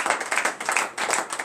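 A church congregation at morning prayer claps together in a quick, steady rhythm, a dense burst of hand claps in a reverberant room.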